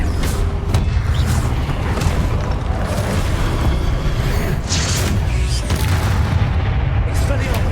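Repeated Confringo fire spell blasts in Hogwarts Legacy: heavy booms and crackling bursts pile up in loud, unbroken combat noise with no pause between hits.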